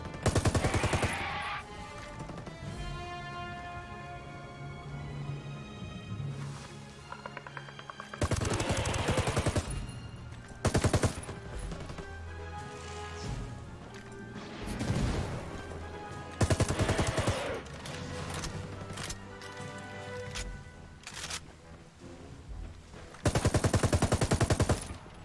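Video game gunfire in Ghost Recon: Wildlands: loud bursts of automatic fire recur between quieter stretches of music and game ambience, with no talk over them.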